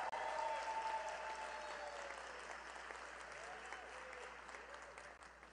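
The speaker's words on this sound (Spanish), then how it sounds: "También un aplauso para él." Audience applause fills a hall after a panelist from Spain's Red channel is introduced at a public forum on media, politics and public opinion, steady and fairly quiet for about five seconds with no talk over it.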